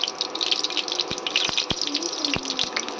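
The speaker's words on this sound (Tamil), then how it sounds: "எண்ணெய் ரெண்டு ஸ்பூன் ஊற்றிக்கிட்டேன் கடுகு போட்டுக்கிறேன்" Mustard seeds sizzle in two spoons of hot oil in a pan for a potato and soya chunk fry, a loud, close, continuous hiss dotted with sharp pops and crackles, with no talking.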